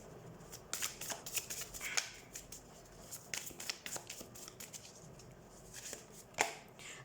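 Tarot cards being shuffled by hand during a reading, a close series of quick riffling and slapping bursts with short pauses between, fairly quiet with no talk.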